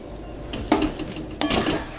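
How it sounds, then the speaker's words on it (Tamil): Flour is stirred into ghee in a pot for aadi koozh, with two distinct scraping clinks of a utensil against the metal pot over a low background hum, close and with no talking. "இப்போ இந்த மாவை போட்டு நல்லா கிண்டிக்கலாம் கட்டி இல்லாமல் கிண்டணும்"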